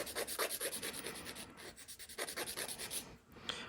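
A nail file rubs back and forth across fingernails during a manicure, shortening them straight across with quick, close, soft rasping strokes in a steady rhythm and a brief pause near the end.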